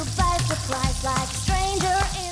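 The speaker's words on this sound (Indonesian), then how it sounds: "baru kita landingkan cuminya satu-satu ke dalam minyak yang panas sampai garingnya tuh pol banget" Squid pieces fry in hot oil, a continuous sizzle and bubbling with some clinks from stirring or utensils, close and fairly loud.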